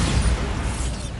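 A Bombarda spell explosion in the video game Hogwarts Legacy, heard as a short, dense, roaring burst of blast noise with no quiet gaps.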